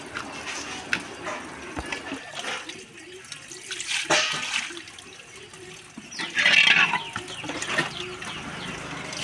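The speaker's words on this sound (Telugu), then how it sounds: "ఇప్పుడు మళ్ళీ వాటర్ పోసుకోవాలి" Water is poured from a bucket over korameenu (murrel) fish being washed after a salt scrub, splashing in a louder burst midway over a background of gentle trickling and handling noise.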